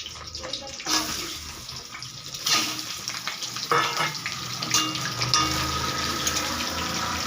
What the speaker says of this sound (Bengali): তেল গরম হয়ে গেলে মাছের মাথাটা আমি ভেজে নেব।